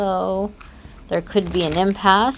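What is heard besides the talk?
shuffling tarot cards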